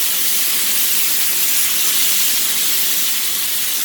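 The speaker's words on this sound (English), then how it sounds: "So right now we're just going to flip our burger." A burger patty sizzling hard in a hot pan right after being flipped, a loud, steady crackling hiss that holds without a break.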